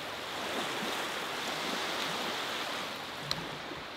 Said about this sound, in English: I've never been this close to the ocean in a long time.